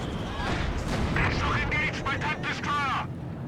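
An SU-85 tank destroyer fires in a Company of Heroes 2 match, with booming gunfire and battle noise under a steady commentator's voice throughout.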